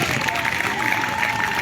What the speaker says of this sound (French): Il faut applaudir fortement le chef.